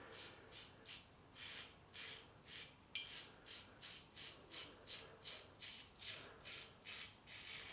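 A Henson AL13 double-edge safety razor scraping through Palmolive shaving cream, giving a steady rhythm of short, close raspy strokes that repeat roughly every half second, fairly quiet and with no talking.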